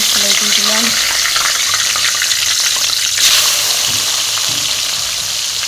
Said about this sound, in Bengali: রসুন পেঁয়াজ সুন্দর করে লাল লাল করে ভাজবো